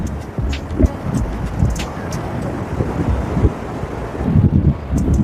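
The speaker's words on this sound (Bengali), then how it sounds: "দেখতেই পাচ্ছেন হাওয়ার খুব প্রচন্ড তেজ, মানে দাঁড়িয়ে থাকা যাচ্ছে না" Strong wind buffets the microphone on Bakkhali beach, a loud, continuous low roar with gusty surges throughout.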